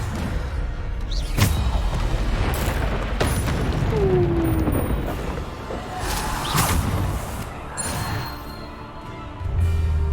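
Explosive Bombardo spell blasts in the video game Hogwarts Legacy, a dense run of loud booms, whooshes and crashes layered over continuous combat noise.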